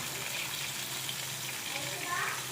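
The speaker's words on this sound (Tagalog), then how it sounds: "Okay, dadarap na natin siya sa oil na mainit." Egg-coated chicken hits hot oil, and a dense, continuous frying hiss follows for the whole moment, close and fairly loud.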